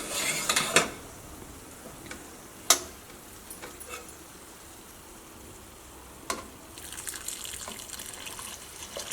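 Water is tipped into a hot pan of masala for chickpea curry, giving quiet sizzling and a few sharp splashes and clinks, then a low simmering hiss.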